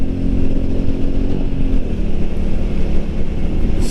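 A Royal Enfield Meteor 350 motorcycle engine runs steadily at close range while riding, a continuous low rumble with a slight shift in pitch partway through as the bike carries on.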